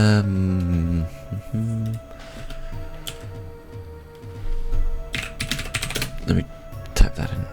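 Computer keyboard keys click in short, scattered runs of taps, some soft and some sharper, while a voice talks over the opening seconds.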